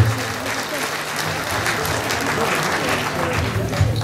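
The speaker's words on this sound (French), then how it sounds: "Mesdames et messieurs, on peut l'applaudir." Audience at a political party investiture event in France applauds continuously, a dense and even roar of clapping with voices murmuring underneath.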